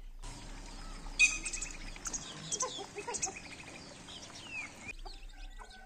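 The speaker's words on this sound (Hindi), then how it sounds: "बाहर ये देखिए, इतनी प्यारी चिड़िया कैसे प्यारी प्यारी आवाज़ें निकाल रही है।" Small bird chirping and calling outdoors in a farmyard setting, a run of bright, quick tweets and trills at moderate distance, fairly steady for several seconds before falling quiet, with faint background ambience.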